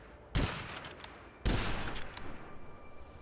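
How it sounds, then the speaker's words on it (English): Two loud gunshots from a bolt-action rifle in the video game Witchfire, one near the start and another about a second later, each with a long decaying tail and no talking. "It's an interesting gun. It's like a bolt action."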